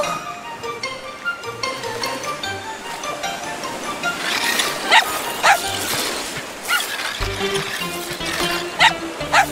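A cartoon dog barks and yips in a quick series of sharp, loud yelps, some whimpering, over music and cartoon sound effects.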